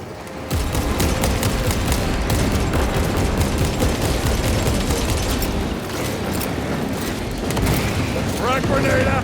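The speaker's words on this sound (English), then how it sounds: "Frag grenade out!" Frag grenade blasts and sustained gunfire from a Warhammer 40,000: Space Marine 2 battle at a breached wall, loud and dense throughout, with booming detonations under shouted voices.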